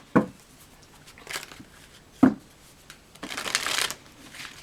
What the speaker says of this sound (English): So we're going to get a card from the Life Design cards.